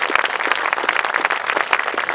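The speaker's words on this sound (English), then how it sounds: "So give yourselves a round of applause because you've made this day" An audience at the Fort Ord National Monument unveiling on Armed Forces Day claps for itself. The brief applause is moderately loud, with individual claps standing out in a quick, uneven patter and no speech.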